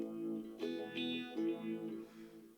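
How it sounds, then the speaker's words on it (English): An electric guitar plays a few sustained chords through the phaser effect of a Mooer GE100 multi-effects processor, the tone swirling and shifting as each chord rings out. "on PO4 we've got a phaser"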